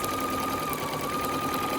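A sewing machine stitches a cushion seam through two layers of fabric, a steady, close mechanical whir with a fast, even rhythm running throughout.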